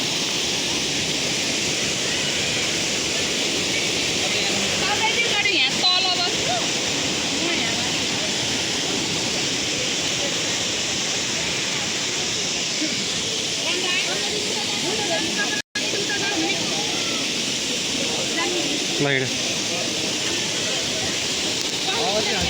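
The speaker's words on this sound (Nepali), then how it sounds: "ल यो माथिको झर्ना भयो" An upper waterfall near a cave in a Nepali village roars as a dense, continuous hiss with faint voices in the background throughout.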